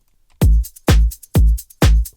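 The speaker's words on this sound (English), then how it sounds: "Next, I added this little shaker loop." Shaker loop shaped by a transient processor and played with drums: four evenly spaced punchy kick-like hits with bright tops, short gaps between them, loud and clear with no talking.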